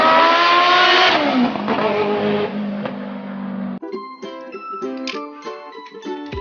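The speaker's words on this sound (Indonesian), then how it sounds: "Wow, ada mobil balap berwarna hijau stabilo." A green toy race car with a racing engine sound effect, loud revving tones sweeping through the first few seconds, then shifting into choppier, beeping electronic engine tones to the end.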